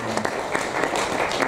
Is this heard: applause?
yes